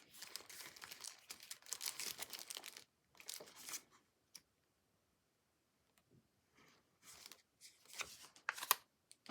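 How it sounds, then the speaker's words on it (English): Sticker sheets and embellishments are flipped through for a scrapbook page kit, giving crisp papery crinkles and rustles in bursts separated by short quiet pauses. "Flipping through these stickers just to see what else might holler out at me"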